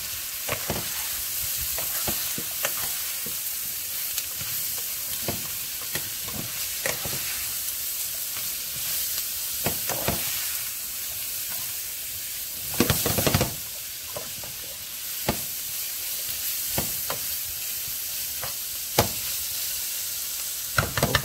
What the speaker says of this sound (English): And now I'm gonna stir.